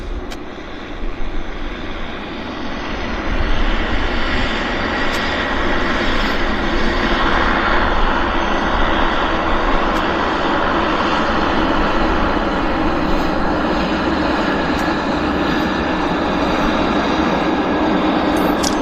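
A medevac aircraft lands at Vancouver airport on the north side. Its engines roar in a loud, steady wash that swells after a few seconds and holds to the end, with no talk.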